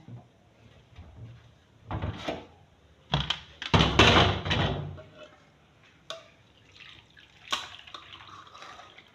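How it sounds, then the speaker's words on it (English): Bitter leaf tea is strained, giving intermittent splashy pours and trickles in uneven bursts, with a few louder sloshes and knocks of containers close by and quiet gaps between. "This is the bitter leaf tea. So I'm going to strain it."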